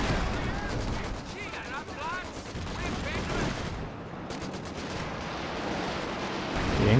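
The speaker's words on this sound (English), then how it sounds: "In comes a walking Stuka barrage" Rocket barrage from a walking Stuka strike in Company of Heroes 2 rolls through a steady, dense battle din, with repeated sharp blasts and crackling fire layered under a voice.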